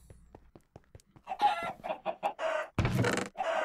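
Chickens on a Minecraft chicken farm cluck in a busy string of close, choppy calls, growing louder and more overlapping, with a sharp squawk near the end.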